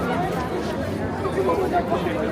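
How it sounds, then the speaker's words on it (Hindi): A busy crowd at St. Petersburg airport fills the air with a steady, close murmur of many overlapping voices. "तो इस तरफ देखिए दोस्तों काफ़ी भीड़ है।"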